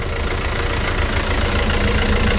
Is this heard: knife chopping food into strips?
no